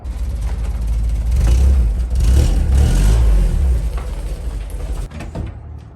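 A 1965 Toyota Corona being raised onto jack stands: continuous close mechanical clanking and creaking with a low rumbling underneath, ending in a few sharp knocks.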